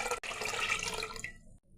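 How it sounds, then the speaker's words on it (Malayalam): Plain water poured into a bowl of ragi vermicelli to soak it, a steady splashing stream for about a second and a half that cuts off abruptly, leaving near silence. "അതിലേക്ക് നമുക്ക് പച്ചവെള്ളം ഒഴിച്ചു കൊടുക്കാനും ചെയ്യുക കുതിർക്കാനുള്ളത്"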